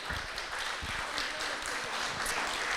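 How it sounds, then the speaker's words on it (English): Audience applause for event sponsors, a steady wash of many hands clapping that sounds moderately distant and continues without a break. "So please, round of applause for our sponsors,"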